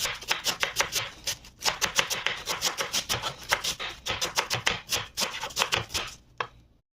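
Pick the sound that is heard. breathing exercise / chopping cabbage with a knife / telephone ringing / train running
chopping cabbage with a knife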